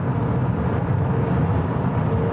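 A Toyota Camry 3.5 pulls hard at around 120 mph, a steady loud drone of engine and road and wind noise from inside the cabin, without letup.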